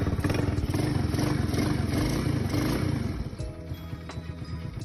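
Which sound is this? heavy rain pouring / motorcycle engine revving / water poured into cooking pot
motorcycle engine revving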